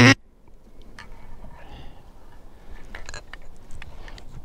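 Gadwall ducks quack intermittently in the distance, a few scattered calls over a steady outdoor background hiss, with a sharp click at the start.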